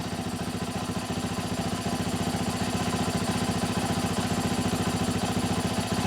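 A Yamaha YZ450F dirt bike engine idles with a fast, steady putter, close and fairly loud, running evenly without revving, idle turned all the way up.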